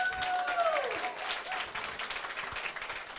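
Audience at a start-up pitch event applauds a speaker, a brisk patter of clapping that stays steady and fairly loud, with a brief rising whistle-like tone near the start.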